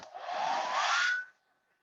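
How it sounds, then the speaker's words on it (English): A hair dryer blows close by to speed-dry a watercolour painting, a steady whooshing roar that lasts just over a second and then cuts off. "Doesn't take long, just a quick bit of speed drying."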